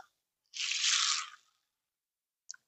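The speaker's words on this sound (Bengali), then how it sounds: "এবার জল দিয়ে পাল্টে পাল্টে কিন্তু তিন চারবার ধুয়ে নেব" Water is poured into a bowl of sago to wash it, one short splashing gush lasting about a second, then a single faint drip in near-silence.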